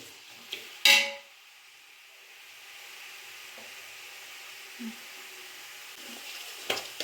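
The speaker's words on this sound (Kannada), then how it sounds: "ಹಾಗೆ ಈರುಳ್ಳಿ ಫ್ರೈ ಆಗ್ತಾ ಇರಲಿ." Onions frying in oil in a home kitchen: a sharp metal clank, then a steady, even sizzle that carries on with a few faint utensil taps.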